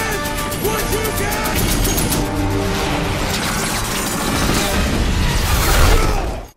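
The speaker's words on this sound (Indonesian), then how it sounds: "Fish pun menembaki pesawat-pesawat itu dengan senapan mesin di tank tersebut." Dense, loud machine gun fire from a tank runs throughout amid a busy, crashing battle soundscape, with rapid bursts blending into a continuous roar that cuts off at the end.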